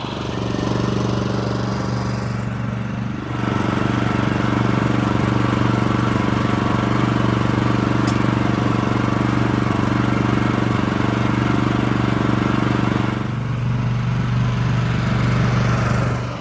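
A 25-inch California Trimmer Catalyst reel mower fitted with a verticut cartridge runs steadily with a loud droning engine, briefly dipping in load twice during the pass.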